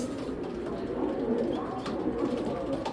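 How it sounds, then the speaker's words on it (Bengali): A large male pigeon coos up close in a pigeon collection, giving a continuous, throaty, vibrating coo that runs steadily for a few seconds with no talking. "এই কবুতরটা এত সুন্দর ভাইব্রেশন করে"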